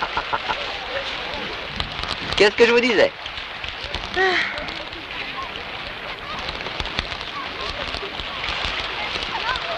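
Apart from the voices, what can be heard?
rain falling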